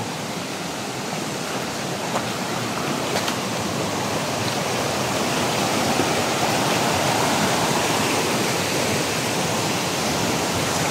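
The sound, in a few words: rushing water flowing down from the mountain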